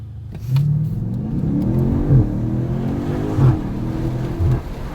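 Black 2020 BMW M8 with carbon fiber trim accelerating on a test drive, a deep engine drone heard from inside the cabin rising in pitch through several gear changes, loud and steady, with no talking.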